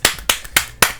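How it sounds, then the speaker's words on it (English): Four sharp, close hand claps land at an even, quick pace in a podcast studio, clean and dry with no other sound around them. "Round of applause."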